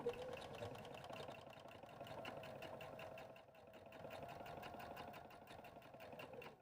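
Sewing machine stitching a top stitch on a fabric tissue cover, a faint, steady fast-paced mechanical whir and patter continuing throughout with a brief dip partway.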